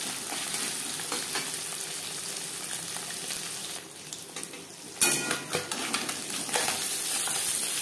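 Small puti fish, marinated, frying in hot refined oil with a steady close sizzle and crackle throughout, briefly softening before a sharper burst of spattering as more fish hit the pan, with occasional utensil clinks.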